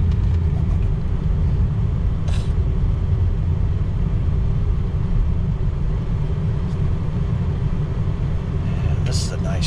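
A 2004 Ford F250 diesel truck drives through town toward a four-way stop, a steady loud low rumble of engine and road noise heard from inside the cab, continuous throughout with a couple of faint brief clicks.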